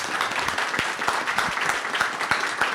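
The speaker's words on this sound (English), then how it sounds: "Round of applause, please." Audience applause at the close of a tech talk about engineers using AI agents to build iOS apps, a steady crowd of clapping hands with a few sharper individual claps standing out, continuous and fairly loud with no talking.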